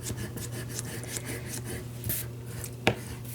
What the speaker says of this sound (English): I am just rubbing that candle wax over my